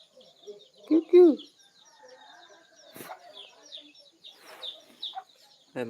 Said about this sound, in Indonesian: Ayam kampung guys.